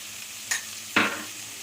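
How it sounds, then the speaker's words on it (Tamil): Mutton fries with spices in a pan under a low, steady sizzle, broken by two brief scraping strokes of stirring, the second louder and longer. "இதை வந்து நல்லா இந்த கறியோடு சேர்த்து நல்லா ஃப்ரை பண்ணணும்"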